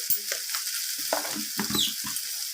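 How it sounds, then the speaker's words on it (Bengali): A spatula stirs fish roe curry with vegetables and garlic frying in a pan after salting, steady sizzle under a handful of scraping strokes, close and fairly loud, with no talking. "তো লবণটা দেওয়ার পর আবারও নাড়াচাড়া করে নিচ্ছি আমি এইভাবে"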